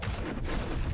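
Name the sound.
artillery fire in video game Panzer Campaigns Bulge '44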